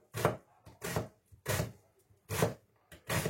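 A knife finely dices onion on a board, sharp rhythmic chops in short bursts, about six distinct strikes close by with brief pauses between.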